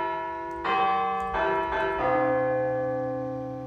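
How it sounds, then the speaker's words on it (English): Sampled chimes from the free Sonatina Orchestra VST plugin: three struck bell-like notes in a row, bright and ringing with a fairly short sustain that fades out, played alone. "Just chimes."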